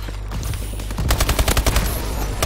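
Rapid bursts of gunfire from a shooter video game played during a tournament, loud and close, with a sharp string of repeated shots in the second half.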